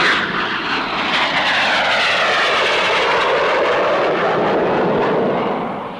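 Loud, sustained roar of an English Electric P1 fighter jet with Rolls-Royce Avon engines, a broad jet noise with sweeping tonal bands suggesting a flyby, steady throughout and fading slightly at the end, with no voices.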